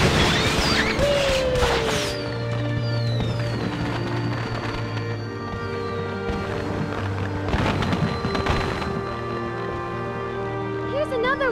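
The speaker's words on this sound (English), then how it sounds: "The chain fireworks don't last forever." Chain fireworks in a Harry Potter video game crackle and pop continuously, with repeated bursts and whistling streaks layered over game music and ambient noise, while a person talks over it.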